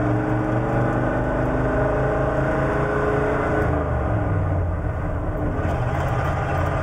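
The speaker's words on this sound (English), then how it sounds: "So accelerating from a low speed, we're in first gear right now, we'll accelerate using the gas motor." Hybrid truck with a five-speed manual gearbox accelerating from low speed in first gear on its gasoline engine, a steady loud engine drone with rising harmonics, continuous and close throughout.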